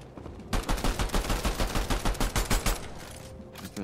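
Rapid bursts of gunfire from the video game Fortnite, a quick steady run of about a dozen loud shots after a brief quiet start, fading toward the end; no talking.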